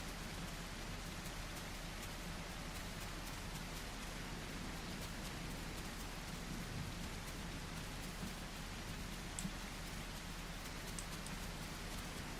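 Steady rain falling at night in the dinosaur survival game The Isle, an even, continuous hiss of drops with faint low rumbles beneath, heard alone with no voices.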